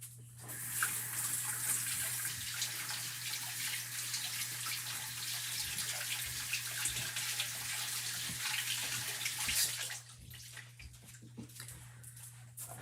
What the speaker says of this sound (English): I'm gonna go rinse this.